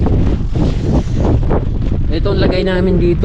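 Strong, cold wind roars across a mountain campsite at Goat Cliff on Mt. Olis, Atok, Benguet, buffeting the microphone steadily throughout while a person talks over it.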